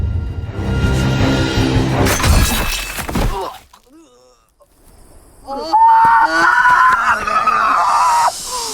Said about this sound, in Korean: 극심한 고통으로 새어나오는 비명에